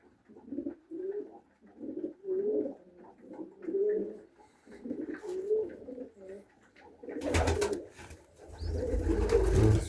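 Pigeons coo repeatedly in a loft during feeding and cleaning, soft rhythmic calls close by, ending in a burst of rustling and flapping.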